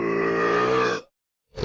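A reader's voice imitates a boorish monster's burp: one long, loud, guttural belch lasting about a second, then a short silence before a new sound begins.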